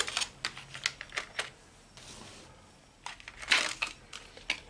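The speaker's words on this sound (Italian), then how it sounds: "Ok, allora apriamo la confezione." Plastic packaging of a model locomotive is opened up close, with irregular crisp crinkles, clicks and snapping taps scattered over several seconds and a brief quieter pause midway, no talk.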